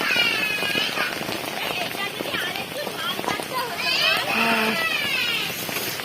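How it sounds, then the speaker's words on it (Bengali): Heavy rain pours in a steady, dense hiss throughout, with rainwater nearly entering a house and indistinct voices and shouts rising and falling in the background. "দেখতে পাচ্ছ আমাদের বৃষ্টির জলে আরেকটু হলে ঘরে ঢুকে যাবে বৃষ্টির জল"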